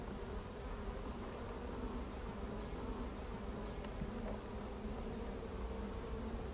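Honey bees drone in a steady, dense, low buzz around an opened hive during honey extraction, a continuous close swarm hum with a few individual bees passing nearby.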